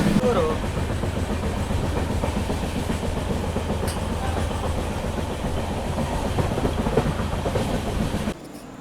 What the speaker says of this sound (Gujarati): તો ભાઈ અત્યારે આપણી ગાડી આવી ગઈ છે કસારા રેલવે સ્ટેશન ઉપર